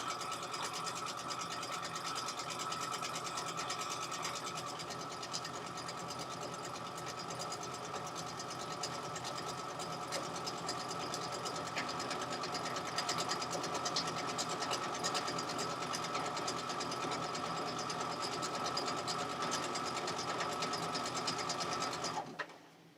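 Domestic sewing machine running continuously for over twenty seconds, a steady close whirring hum with rapid needle clatter, stopping abruptly at the end.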